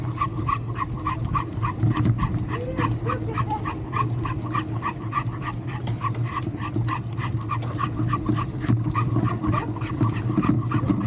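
Dog barking in a street, rapid repeated barks and yips close by in a continuous volley over a low engine-like rumble, with no speech.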